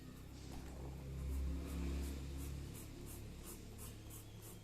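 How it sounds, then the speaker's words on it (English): A pencil scratches quick cross-hatching lines across paper in a sketching lesson, a soft, faint run of short repeated strokes over a low steady hum. "you put some cross hatching lines"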